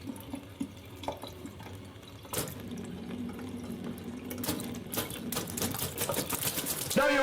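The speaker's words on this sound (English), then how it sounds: "What do you think that jumping on jets of water sounds like?" Water jets spurting and splashing in a Ratatouille platformer video game, a busy stream of clicky, watery pops and hisses with a low hum underneath and sharp bursts near the end.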